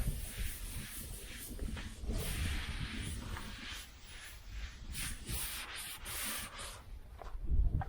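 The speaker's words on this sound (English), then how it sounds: "That's why you got to be very careful buffing paint, because you're actually buffing off" Paint on a 1976 Chevy El Camino is buffed by hand, giving a soft, continuous rubbing and swishing close by with uneven strokes and faint hiss.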